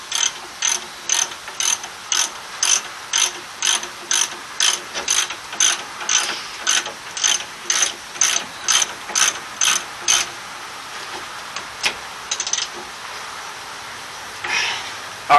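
A ratchet spins a brake caliper bolt on a 2003 Dodge Ram 1500 during a rear rotor and pad job: about twenty crisp, evenly spaced clicking bursts up close, then a short pause and a few scattered clicks.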